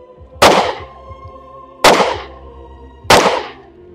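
Three sharp rifle shots ring out one at a time at an outdoor shooting lesson, each a loud close crack with a short echo and a pause of over a second between them.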